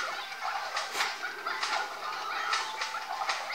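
Chickens clucking and squawking in short repeated bursts as a crocodile attacks them in the video game Wild West, bright and close, with no talk over them.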